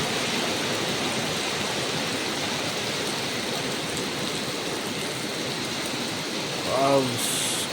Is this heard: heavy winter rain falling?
yes